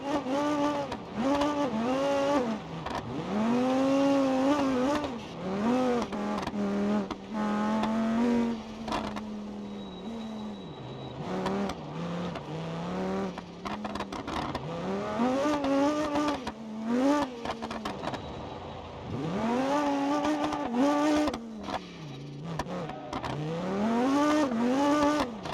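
A car revs hard and brakes through corners in BeamNG.drive, its engine pitch climbing and dropping repeatedly as it shifts, with occasional tire squeal, loud and continuous with no talk.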